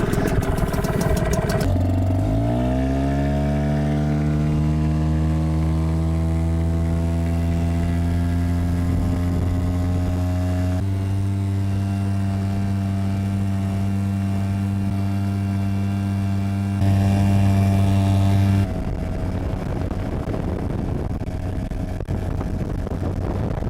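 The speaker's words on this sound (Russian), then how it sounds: "давайте заводить наш прекрасный мотор" A Tohatsu 5 hp outboard boat motor cranks and catches, its pitch rising as it revs up, then runs loudly and steadily close by, with a few shifts in engine speed.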